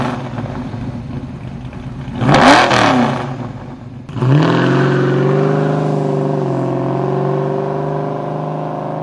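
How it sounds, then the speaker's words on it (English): A car exhaust through a Flowmaster muffler blips with a quick, loud rev, drops back, then revs again and settles into a steady, deep, bassy rumble close by, with no voices. "You'll get a rumble with more bass tone than the 50 Series Delta Flow"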